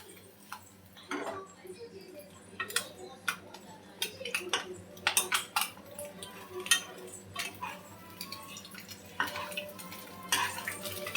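Boiled eggs frying in a pan for egg curry, with a low sizzle under repeated clattering spoon stirs and scrapes against the pan, close and uneven in rhythm.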